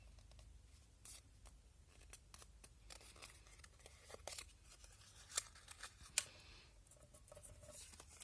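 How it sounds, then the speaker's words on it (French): Scissors cut paper for a small Christmas chocolate box, making a series of faint, crisp snips and light rustles at an irregular pace in a quiet room. "Et là, on va venir couper de l'autre côté."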